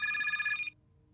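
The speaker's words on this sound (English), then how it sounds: "The phone rings?" A telephone bell rings in a Minecraft horror adventure map, a bright electronic double ring that sounds clearly for about half a second, then cuts off into quiet background hum.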